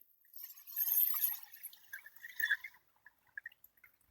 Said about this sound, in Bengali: এখন আমি দিয়ে দিচ্ছি গরম জল।